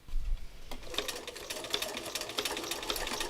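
A sewing machine stitches a complex outline shape, its needle running in a quick, steady mechanical patter close up, with no one speaking.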